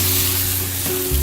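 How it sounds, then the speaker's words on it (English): Vegetable broth pours into a hot pan of stroganoff, setting off a steady, loud sizzle and frying hiss that swells slightly near the end as the liquid hits the heat. "now I'm gonna add my half a cup of vegetable broth"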